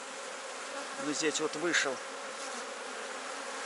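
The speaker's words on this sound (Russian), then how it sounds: "Вот сколько пчел тут, боже ты мой." Honey bees buzz around an open beehive, a faint, continuous hum with a few louder close passes, while someone speaks briefly over it.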